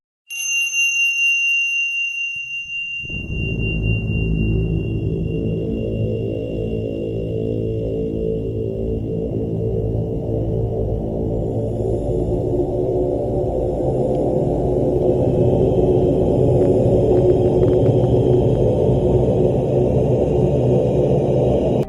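NASA's sonification of the early universe, 380,000 years after its birth: a high, bell-like ringing tone fades into a dense, low rumbling drone that swells and holds steadily to the end.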